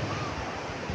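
Loud amihan wind buffeting the microphone over the rushing roar of sea waves, steady throughout a short burst.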